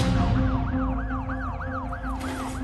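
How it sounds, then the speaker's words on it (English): A racing ambulance sounds its siren, a loud, continuous wail rising and falling in quick regular sweeps over a heavy low rumble of traffic. "there was already an ambulance racing to the scene"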